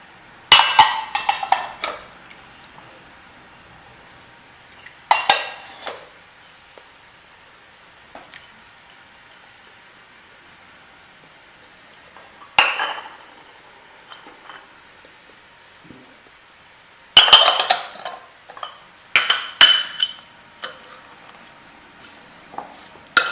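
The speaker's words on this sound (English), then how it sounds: "Now I'm going to add all of these into my bowl and start to mix them." Toasted ingredients and toasted poppy seeds being mixed in a bowl for karanji filling, heard as a few separate bursts of clinking and scraping against the bowl with quiet gaps between them.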